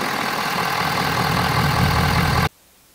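A Ford F250 6.7 liter V8 diesel engine idles with a steady, loud low rumble and even clatter for about two and a half seconds, then cuts off abruptly into near silence.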